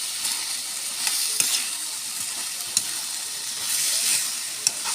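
Corn and okra sautéing in a pan, a steady bright sizzle with faint stirring scrapes and a few sharp clicks of a utensil, close and continuous throughout.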